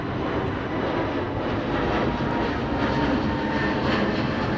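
Airbus A350 departing London Heathrow as flight VS137 to New York, a steady broadband engine roar heard at a distance, constant and unbroken throughout.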